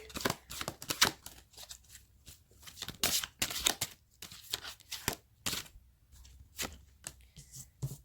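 A deck of reading cards is shuffled and drawn by hand, producing quiet, close bursts of riffling and flicking in an irregular rhythm with short pauses between.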